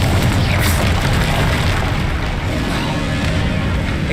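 A Confringo blast spell goes off in the Hogwarts Legacy game, a loud, dense booming rumble sustained over the whole stretch with low-end thuds and crackling debris, no pause between bursts.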